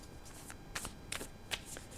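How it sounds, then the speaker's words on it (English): Tarot cards being shuffled by hand, a series of crisp riffling bursts and soft slaps spread across two seconds, close and fairly quiet with no talk. "Now let's see what cards we pull"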